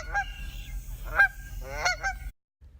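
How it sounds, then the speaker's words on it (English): Canada geese in the American Midwest give three loud, close honks with short gaps between them, each a harsh nasal call, over a low rumbling background that cuts out near the end. "We saw 4 Canadian geese."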